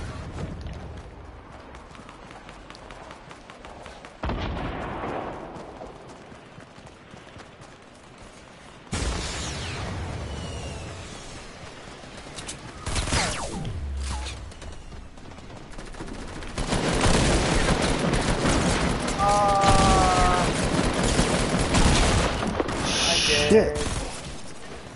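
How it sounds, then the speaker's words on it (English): Explosions and gunfire rage in a Fortnite match, with bursts of rapid shots and booming blasts swelling louder toward the end, under occasional talk. "There's a lot of explosions."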